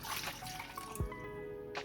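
Warm water is poured into a bowl for focaccia dough, a brief trickling splash with a small slosh partway through, close and fairly quiet.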